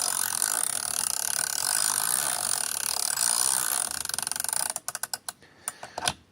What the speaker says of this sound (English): Now that is what the Hyper Tough sounds like compared to what the gear wrench.